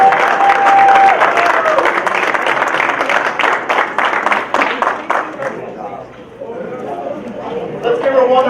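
A high school audience at a Black History Month event applauds, the dense clapping strong at first and then fading, with a short tonal sound near the start and voices emerging as it dies down.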